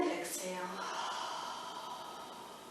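A long, soft, breathy exhale during a seated chair yoga session, close and steady, fading gradually over a few seconds.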